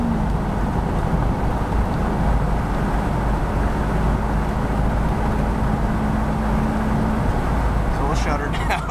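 A car accelerates at full throttle with overdrive engaged, giving a loud, steady broadband roar of engine and road noise throughout. A faint, brief rattle comes near the end.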